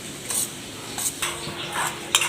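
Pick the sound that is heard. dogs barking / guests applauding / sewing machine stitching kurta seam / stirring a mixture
stirring a mixture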